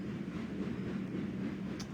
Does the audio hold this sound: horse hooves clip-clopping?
no